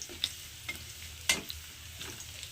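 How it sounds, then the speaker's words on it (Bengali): Garlic frying lightly in oil for restaurant-style chilli paneer: a soft, steady sizzle broken by a few sharp clicks and taps of stirring, close by with no voices. "তো রসুনটা একটু হালকা ভাজা করে নেবো"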